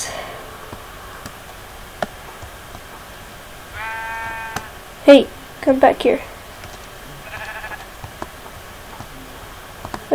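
A Minecraft sheep lets out a couple of short, harmonic bleats between bursts of game sound effects, while a player's voice speaks briefly nearby.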